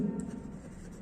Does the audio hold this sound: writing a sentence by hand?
yes